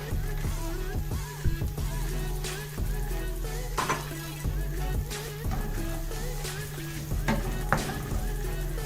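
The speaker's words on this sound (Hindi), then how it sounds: "जैसे ही बटर गर्म होगा इसमें हम शामिल कर देंगे बॉइल्ड कॉर्न्स" Boiled corn kernels fry in hot butter in a pan, making a steady, dense sizzle with occasional stirring clinks and scrapes throughout. The sound is close and continuous, and no one speaks.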